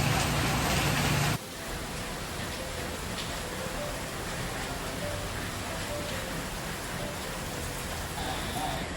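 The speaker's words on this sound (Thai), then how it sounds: "ช่วงนี้ฝนตกนะคะ" Steady rain falls during a rainy spell, a dense continuous hiss of drops on surfaces, fairly loud and close throughout, with a louder burst at the very start and no voices.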